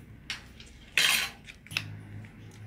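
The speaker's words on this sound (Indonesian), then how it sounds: "kita bisa mengambil satu sendok cuka apel ini, kemudian ditambah madu." A spoon measuring apple cider vinegar and honey clinks against a container in three sharp metallic taps, the middle one loudest, with no talking.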